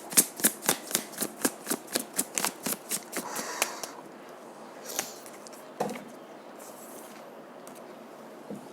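Tarot cards being shuffled, a rapid run of crisp riffling flicks that slows and thins into a few scattered soft taps and slides, close and fairly quiet, with no talk.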